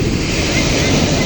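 Sea waves wash onto the shore in a loud, continuous roar of surf, mixed with strong wind buffeting the microphone.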